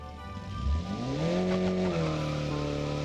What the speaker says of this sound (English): wonder if I can do a wheel spin in this.